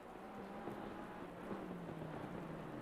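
Rain in a racing sim at the Nurburgring, a steady dense hiss with a low engine hum underneath, faint and continuous.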